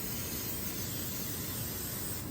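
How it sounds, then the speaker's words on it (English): Cooking spray hisses onto a baking pan for a casserole, a soft continuous airy spray that stays fairly quiet and even throughout, with no talking. "we're gonna spray the pan with a cooking spray"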